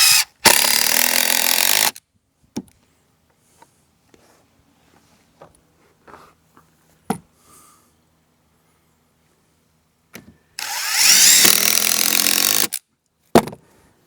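A cordless power drill drives screws into a new wooden beam of a walkway built on bare ground: two loud, close whirring bursts of about one and a half to two seconds each, separated by quiet taps and handling clicks.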